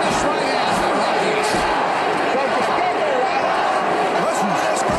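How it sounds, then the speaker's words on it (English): Roaring arena crowd at a boxing match, a loud steady wall of cheering and shouting that runs through the whole stretch, with a commentator's voice riding over it. "Listen to this crowd."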